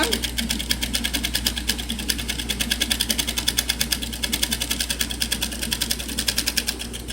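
A sewing machine stitches a gathering seam on a small piece of fabric, running a steady rapid needle rhythm throughout, close and fairly loud with no break.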